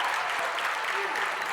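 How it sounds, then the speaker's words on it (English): Arena crowd applauds at a women's college basketball game as an honored player is recognized, a brief burst of dense, steady clapping heard at a distance. "thunderous applause"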